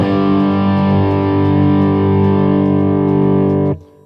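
A single electric guitar chord overdriven through an OCD pedal on a Boss MS-3 rings out loud and sustained for several seconds, then is abruptly cut off.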